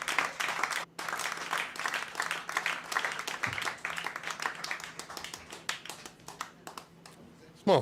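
Applause from a small, intimate crowd on a played-back recording: dense, steady clapping that carries on for several seconds, thins out near the end, and is briefly broken by a short dip.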